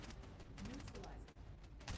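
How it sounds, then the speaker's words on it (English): Rapid gunfire from a video game crackles in quick bursts, fairly faint and mixed under continuous talk, with a sharper shot near the end. "Hearing a lot of Sosa gunfire"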